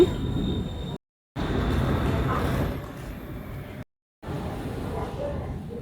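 Underground subway train in Bangkok rumbling along the track near Sam Yot station, a steady low roar cut by two brief silences, with the noise easing partway through.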